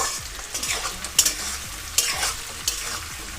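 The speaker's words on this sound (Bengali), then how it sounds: "ক্যাপসিকাম আর পিঁয়াজটাকে এখানে আমি আদা ভাজা করব" Capsicum and onion chunks stir-fried in a pan over low to medium flame for chilli chicken, a constant bright sizzle broken by regular scraping stirs and a few sharper clatters, close and without talk.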